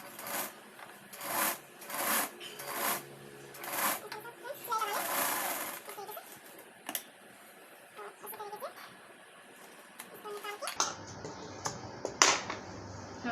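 A sewing machine stitches a designer blouse in quick rhythmic bursts that start and stop, with someone talking between and over the runs.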